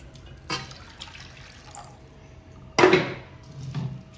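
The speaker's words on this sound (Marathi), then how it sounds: "पुन्हा एकदा पाणी घालायचं" Water is poured again over poha to rinse it, with a few short splashes and a louder close pour near the end, heard without talk.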